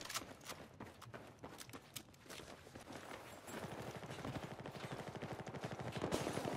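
Rapid tap-fired gunshots from the shooter Battlefield 4, a steady string of crisp shots building into a dense, faster rhythm that grows louder toward the end.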